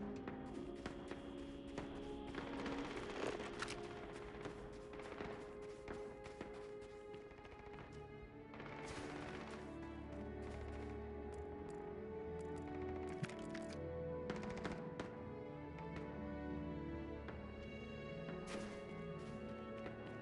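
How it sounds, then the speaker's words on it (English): Gunfire crackles in the background of the space video game Starfield, with scattered sharp cracks and bursts at a distance beneath steady, melodic music. "while I'm hearing all the shooting in the background"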